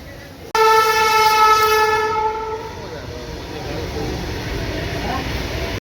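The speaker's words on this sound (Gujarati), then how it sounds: "ચલો આવી ગયા રેલવે સ્ટેશન." At a railway station, a train's horn blares loudly and holds for about two seconds, then fades into the rumble of rolling rail cars and station ambience.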